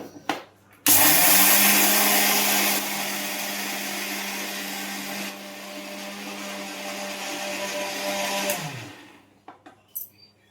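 A mixer grinder powdering sugar, a loud steady electric whir that starts abruptly, runs for about eight seconds with a slight dip in pitch, then cuts off.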